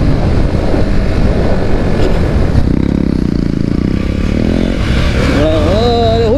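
A motorcycle fitted with an aftermarket exhaust, ridden on a long trip, gives a loud, continuous close engine drone with wind rush and rising revs toward the end.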